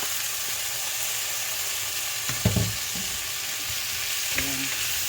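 Mushrooms frying in a pan for a coconut-milk vegetable dish, a steady sizzle with a few short scraping stirs in the middle and near the end, no talking.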